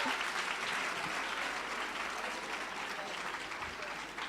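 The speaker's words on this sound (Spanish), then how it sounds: "Un aplauso para Isabel Cano." A conference audience at a video game industry talk gives a full, steady round of applause for an introduced speaker, sustained throughout without talk.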